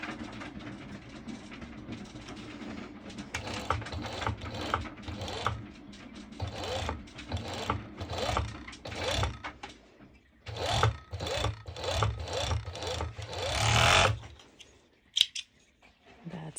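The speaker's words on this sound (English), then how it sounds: "So now I will be serging it." Serger sewing machine stitching mesh shorts, running in rapid bursts of mechanical whirring with brief pauses between them, fairly loud and close, stopping near the end.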